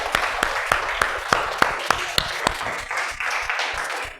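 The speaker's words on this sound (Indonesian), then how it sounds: "Tepuk tangan untuk kita semua." Audience applause at a teachers' training session, a dense wash of many hands with a few sharp, louder claps standing out in a loose, regular beat, close and steady for the whole stretch.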